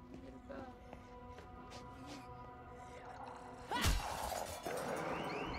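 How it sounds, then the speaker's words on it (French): A wine cellar's glass window smashes in Dead Island 2: one loud, sharp crash with scattering shards about two-thirds through, then a steady buzzing alarm-like tone over game ambience and soft footsteps. "j'ai cassé la vitre de la cave à vin en voulant me défendre."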